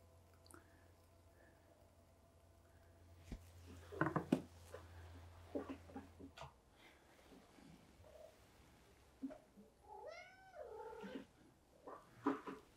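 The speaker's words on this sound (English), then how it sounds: "Sometimes she's quite a noisy cat." A cat gives a few soft, drawn-out meows in a pottery workshop amid quiet rustling and faint background noise, with a brief sharp thump partway through.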